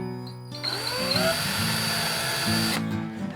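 A power drill bores a guide hole into a wall stud while mounting a guitar wall hanger, a close, loud whirring whine that spins up, holds steadily for about two seconds, then stops.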